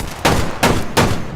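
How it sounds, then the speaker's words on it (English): Big gun firing in the video game Fallout 76 near a bank building: three loud, sharp blasts about 0.35 seconds apart, each with a short rolling tail, and no talk. "Sounds like a big gun to me."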